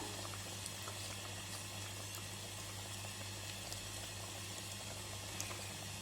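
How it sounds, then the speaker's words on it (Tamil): Pigeon curry boiling in a pot, a faint, continuous bubbling simmer with a low steady hum beneath, no voices. "குழம்பு நல்லா சுண்டம் கொதியாக கொதிச்சிக்கிட்டு இருக்கு"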